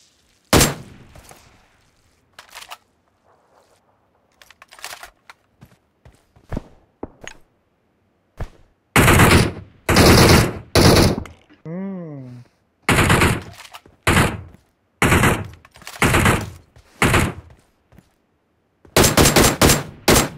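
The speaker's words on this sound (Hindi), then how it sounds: "लेट के डीपी चलाई जा रहा है वो" A DP-28 machine gun firing in PUBG Mobile: repeated loud, close bursts of rapid shots, each lasting about a second, separated by short pauses, with quieter footsteps and a brief warbling tone between them.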